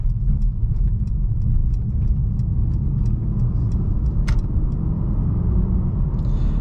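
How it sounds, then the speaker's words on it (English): A 2018 Mercedes-AMG E63S rolls at around 45–50 mph with its dual-mode exhaust on the quiet setting in comfort mode. A steady, loud low engine and road rumble fills the cabin, with faint ticking above it. "you could listen to what this car sounds like at a little bit higher speeds"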